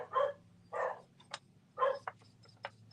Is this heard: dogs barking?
yes